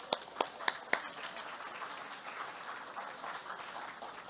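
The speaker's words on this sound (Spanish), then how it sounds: "Vamos a repetir fuertemente ese aplauso para los niños." Applause for children at a ceremony, fairly faint: a few sharp, spaced claps open it, followed by a soft, steady wash of distant clapping from a crowd.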